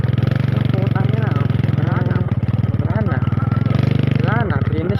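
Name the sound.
motorcycle engine straining, unable to climb uphill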